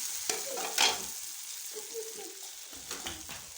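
Breakfast fries in a pan on its second side, a soft sizzle under occasional scraping and stirring clatter from a utensil, quiet and close.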